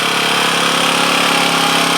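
Small engine of a Rhino Multi-Pro post driver running steadily, a close, buzzing idle that drones on evenly without pause.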